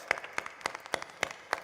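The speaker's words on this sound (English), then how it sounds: "A big round of applause." Scattered audience applause at a Republic Day celebration after a cultural group's performance, heard as six sparse, evenly spaced claps rather than a full ovation, fairly faint.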